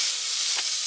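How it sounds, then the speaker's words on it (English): Sausage sizzles loudly in a frying pan alongside egg whites, a steady, close hiss of frying that holds without a break through the moment. "Ooh, you hear that sizzle."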